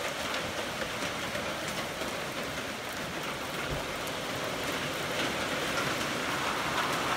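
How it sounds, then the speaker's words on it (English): Heavy rain pours steadily onto a trail shelter on the Appalachian Trail, a dense unbroken hiss of drops that stays loud and even throughout. "pouring down rain."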